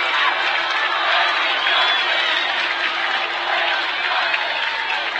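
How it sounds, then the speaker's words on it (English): Home fans at a Viewmont High School girls soccer state tournament match stand and cheer a returning injured senior goalkeeper, a steady wash of crowd applause and cheering from the stands with a commentator talking over it. "The Viewmont faithful stand up and cheer for the senior"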